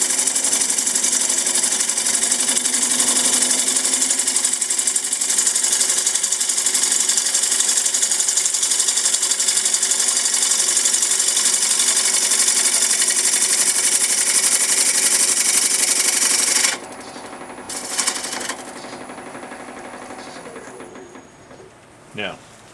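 A gouge cuts into a spinning wooden bowl blank on a lathe, giving a loud, steady whirring hum with harmonic tones that stops abruptly near the end, leaving brief quiet clatter.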